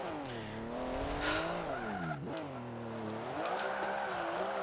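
Volkswagen Beetle engine revs up and down close by, its pitch climbing and dipping in repeated sweeps, with a sharp drop midway and a faint squeal over the steady roar.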